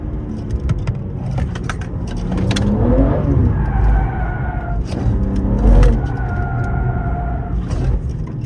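A BMW M3 G80 revs hard while drifting, its engine rising and falling in loud, close surges over tyre and road rumble, with no talking.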